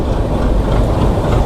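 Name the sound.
train picking up speed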